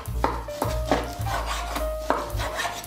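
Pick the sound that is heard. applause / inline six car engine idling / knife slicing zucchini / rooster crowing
knife slicing zucchini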